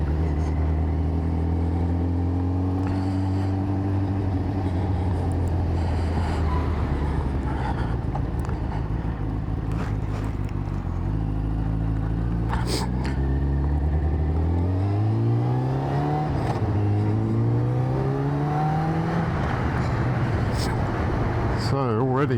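A Kawasaki ZZR600 motorcycle is ridden on the road, its engine droning steadily before rising through several revving climbs and gear changes as it accelerates, with wind and traffic noise around it.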